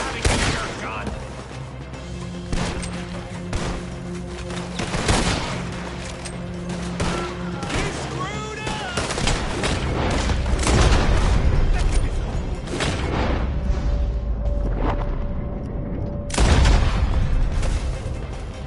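A loud fusillade of gunfire in the Red Dead video game, with rapid shots and booming blasts in dense waves and a heavy burst near the end. Voices come and go underneath.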